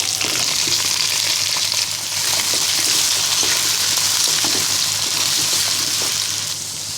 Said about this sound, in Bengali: এখানে আমি সিম এবং আলু কেটে ভালো করে ধুয়ে নিয়েছি এবার কড়াইতে দিয়ে দিব